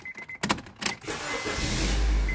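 A 2010 Honda Civic started with its remote key: a few sharp clicks and clunks, then the engine cranks and catches into a steady, rising idle, close and clear with no talk.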